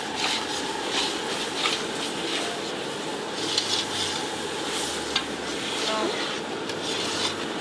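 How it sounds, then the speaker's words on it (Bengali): A large batch of spice paste for chicken curry sizzles and scrapes as it is stirred and fried in oil in a big pot, a steady rough frying hiss with periodic stirring scrapes and occasional voices. "একদম ফাটাফাটি মশলা কষা হচ্ছে"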